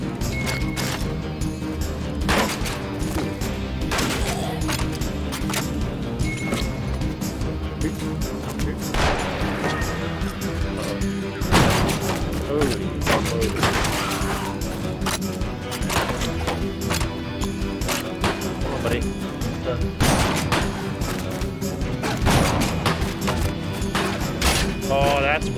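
Gunfire in the bloody western roguelite Colt Canyon, repeated sharp shots and crashes scattered across a long stretch of game action, with someone talking over much of it.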